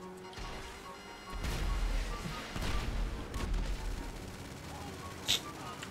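Gunfire in GTA V, a few sharp shots with crashing impacts over a steady rumble of game noise, moderately loud, with a voice talking in the background.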